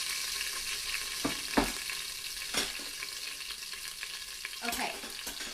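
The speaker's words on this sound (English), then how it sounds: "I'm just browning all the sides." Frozen beef browning in avocado oil in the bottom of an Instant Pot, a soft steady sizzle with a few louder scraping and shifting thumps as the meat is moved.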